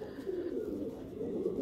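Madrasi pigeon cooing in a continuous low, warbling murmur close by, with no voices over it.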